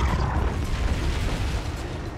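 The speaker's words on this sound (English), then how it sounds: "I successfully flew in the middle of the explosion." Explosion in the video game Donkey Kong Country Returns: a sustained deep rumbling boom that fills the clip and fades slightly near the end, with no talk.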